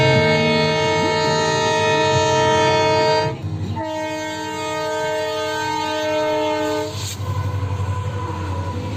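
A train rolls past a rail crossing at Haripani, Goalpara, Assam, its horn sounding in long steady blasts with brief gaps, loud and close over the rumble of the wagons.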